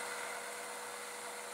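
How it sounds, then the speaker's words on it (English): A belt sander grinding a metal casting, a steady high-pitched abrasive whine that stays constant and close for the entire short clip with no talk. "Now I'm going to use my belt sander to get rid of the little piece left over"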